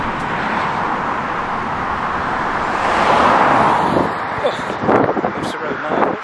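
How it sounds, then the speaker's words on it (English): Traffic rushes along the A24 main road near Westhumble in Surrey, a steady roar of passing cars that builds toward the end, with faint voices nearby. "we will be coming out by the main road here, the A24. We have a lot of traffic and there'll be a bit of noise"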